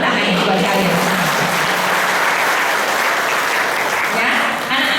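A crowd applauds graduating health-care students at a ceremony in Indonesia, with dense, sustained clapping filling the room throughout and voices mixed in.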